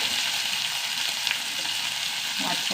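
Curry leaves and onion hitting hot oil, a bright, hissing sizzle that carries evenly through the short stretch, close and loud with no voices.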